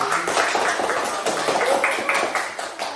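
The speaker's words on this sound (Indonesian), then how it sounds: "Beri tepuk tangan untuk kelompok 2" Classmates in a group-presentation session give a round of applause for group 2, a brief burst of many hands clapping fairly close, steady and unaccompanied by talk.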